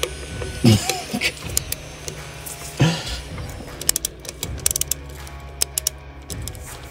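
Socket ratchet clicking during rear axle bearing work on a 2020 Toyota Tacoma 4x4, with short mechanical ratcheting bursts and clanks spread across a quiet garage.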